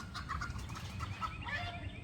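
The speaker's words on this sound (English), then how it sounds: "rooster's after that chicken" Close, lively clucking and squawking from chickens and a rooster as the rooster chases a hen, with busy, overlapping calls and no human voices.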